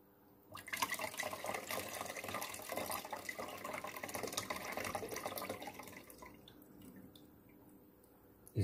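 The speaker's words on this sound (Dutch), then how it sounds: "Toch is het nog steeds heftig aan het koken." Steady rushing, bubbling water noise fills the clip, loud and continuous, then drops away to a quieter hiss near the end.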